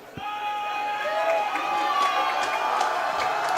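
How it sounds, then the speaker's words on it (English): A high school football crowd at a Hawks home game, Mountlake Terrace versus Capital, making steady cheering noise for their defense in a sustained, moderately distant roar, with a whistle tone and faint shouts over it. "Hawks crowd starting to make some noise. cheering on their defense."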